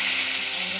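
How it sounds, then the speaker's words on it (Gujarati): Green chillies sizzle in a hot tempering, a loud, close, continuous hiss over a brief moment. "મરચાંનો વઘાર થઈ ગયો છે."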